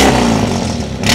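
A heavily modified Suzuki Omni in Dubai revs its exhaust loudly and close by, a rough, rising engine roar that holds steady and surges again at the end, with no talking.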